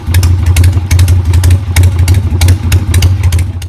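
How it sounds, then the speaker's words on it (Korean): A loud, rumbling Harley-Davidson motorcycle engine idling up close, with an uneven, loping hoofbeat-like throb and bursts of mechanical clatter. "오토바이 브랜드 할리 데이비슨이 특유의 말발굽 소리 엔진음을 상표로 등록하려 했던"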